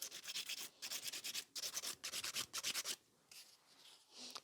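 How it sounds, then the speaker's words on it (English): Nail file rasping over builder gel stiletto nails sculpted on forms, close quick back-and-forth strokes in short rhythmic bursts with brief pauses, quiet and without talk. "I like to do it with the full file because this way I've got more control of where I'm filing"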